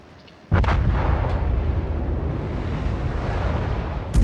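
Naval guns fire in a ship-battle video game, starting with a sudden heavy boom. A loud, rumbling roar follows and lasts several seconds, with another sharp burst at the end and no talking.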